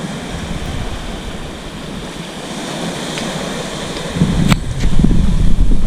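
Sea waves batter an old shipwreck at Saltwick Bay on the Yorkshire coast. A broad, rushing roar of surf mixes with wind buffeting the microphone and swells louder as a bigger surge rolls in toward the end.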